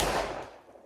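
A single .45 Colt handload shot, fired one-handed, is caught mid-blast: a loud, broad crack that decays quickly into a fading outdoor echo within a second.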